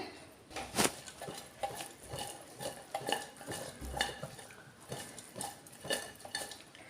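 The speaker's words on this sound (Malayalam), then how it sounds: "അപ്പോൾ അതാ 1 മിനിറ്റോളം ഒന്ന് ഇളക്കി കൊടുത്തു." Steady stirring of Kerala avial, a mixed vegetable curry, in a metal pot, with repeated spoon-on-metal scrapes and clinks in an uneven rhythm, close and moderately loud with no talking.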